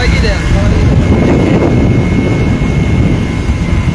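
A speedboat races across open water with a loud, steady rumbling drone and heavy wind buffeting, continuous and close. A voice seems to be talking under the noise.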